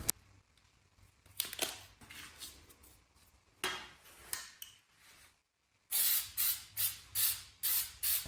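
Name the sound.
spraying clear shellac from spray can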